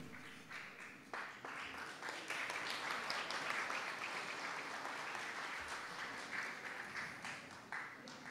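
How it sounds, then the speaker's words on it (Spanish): Sustained applause from an audience at an award ceremony for a student photo-reading contest, honoring the winning team from an educational institution; steady dense clapping fills the room for several seconds without speech. "el aplauso para ellas"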